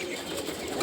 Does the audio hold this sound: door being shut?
no